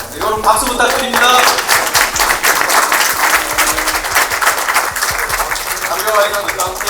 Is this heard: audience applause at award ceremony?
yes